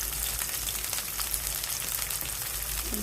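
Shredded cabbage and chopped green chillies frying in a hot pan, giving a steady, dense crackling sizzle at close range throughout with no talk.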